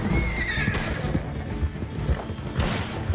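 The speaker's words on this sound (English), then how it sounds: "Oh, they got a horse." A horse whinnies over rapid galloping hoofbeats in the western video game Red Dead Redemption 2, loud and close, with thuds and crashes mixed in.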